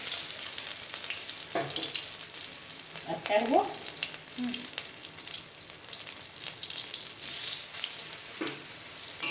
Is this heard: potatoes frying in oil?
yes